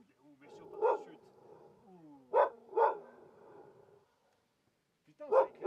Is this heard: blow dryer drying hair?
no